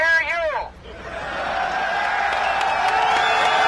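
A crowd of rescue workers at the September 11th site erupts into loud sustained cheering for a speaker after his megaphone remarks, a dense roar of voices and whoops following a brief shouted voice.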